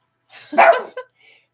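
A dog barks a couple of times nearby, a burst of sharp yelps with a shorter bark just after, in an otherwise quiet indoor setting.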